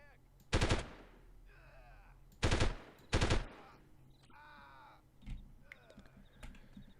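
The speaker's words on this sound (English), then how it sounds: "So it sounds like someone has got a sniper rifle." Sniper rifle gunfire in the video game Delta Force (1998): three sharp, loud cracks, the last two close together, separated by quieter game sounds and faint later impacts.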